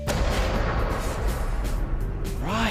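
Special-effects explosion set off for a prank at a wedding, a loud sustained boom and rumble filling the whole moment, with a rising whine and ringing tones near the end.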